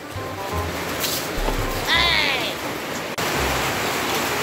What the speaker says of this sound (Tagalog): tuluyan na lumakas yung ulan